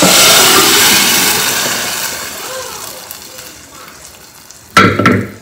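Spicy tempering for a wild taro curry sizzles loudly in hot oil in a pan, the hiss fading gradually, then a sharp burst of louder sizzling near the end.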